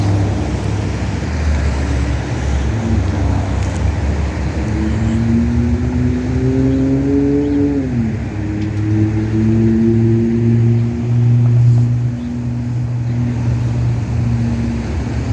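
A car rolls slowly through a drive-thru lane, its engine a steady, close, low rumble with a whine that rises and then settles, continuing without pause.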